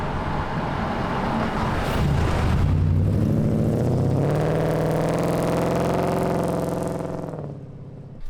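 A 1950 Ford F1 truck's engine breathes through a muffler mounted all the way at the rear, swelling into a loud rising rev and holding a deep, steady throaty drone before easing off near the end.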